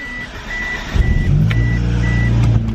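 A Mitsubishi Eclipse GSX engine cranks and catches with a slight rattle, then settles into a steady low idle close by, while a repeating electronic chime beeps in short bursts.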